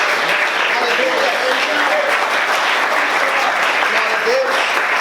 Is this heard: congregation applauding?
yes